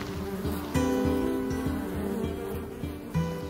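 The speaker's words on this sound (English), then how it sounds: "if you listen closely, you'll hear the bees and all of that biodiversity" A steady bee buzz hums through a show garden at the Chelsea Flower Show, with a rhythmic low drone pulsing underneath; several bees seem to hover nearby without any talking.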